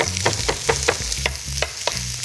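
Asparagus fries in a pan, a dense close sizzle broken by quick stirring scrapes and clicks of the utensil in rapid bursts over a couple of seconds.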